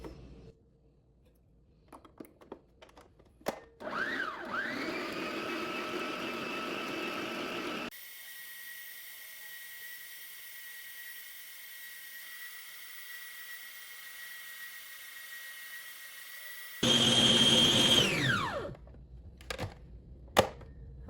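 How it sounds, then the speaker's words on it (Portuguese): A stand mixer whirs steadily as it beats eggs and sugar for cake batter, a loud continuous motor drone that starts, runs for several seconds and winds down, with a higher, louder burst near the end. "Na batedeira, vamos adicionar os ovos, o açúcar e vamos deixar batendo por uns 10 minutinhos"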